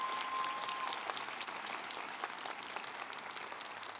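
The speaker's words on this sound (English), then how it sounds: "I'd love for you to give them a round of applause, if you would." Audience applause at a university veterinary medicine commencement ceremony, a steady, moderately distant wash of clapping from a large crowd that holds evenly for several seconds.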